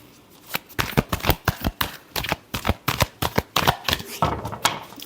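Tarot cards being shuffled by hand, a series of quick crisp riffles and slaps in uneven bursts, close and clear with no talk over them.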